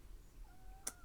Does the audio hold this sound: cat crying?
yes